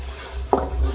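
Sliced medium onions frying together with chicken for white biryani, a soft steady sizzle with one brief stir or clatter near the middle, close by and alone.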